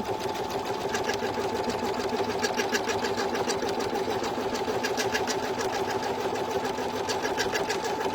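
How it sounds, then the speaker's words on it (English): A Brother Innovis embroidery machine stitches an in-the-hoop e-reader sleeve with a steady, rapid, close mechanical whir and even needle rhythm, running continuously with no talk. "That's what this machine is that I'm stitching on now. It's a Brother Innovis."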